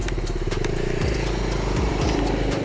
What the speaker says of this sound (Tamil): ஸோ அவ்வளோ ரிஃபைண்டாக இருக்குது இன்ஜினு